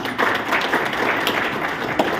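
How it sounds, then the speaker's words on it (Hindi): An audience at a public gathering claps to welcome a speaker, a brief burst of many hands that stays loud and close throughout. "ताली बजा के स्वागत करेंगे"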